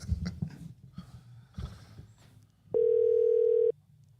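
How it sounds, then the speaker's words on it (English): A single outgoing-call ringback tone, a steady electronic beep lasting about a second, follows a stretch of quiet, faint background room sounds. "It's ringing."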